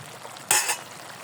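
Fish cooks in a covered pan with bottle gourd and potato, giving a low, even simmering hiss, broken once by a short, sharp burst of sizzle or clatter before it settles back.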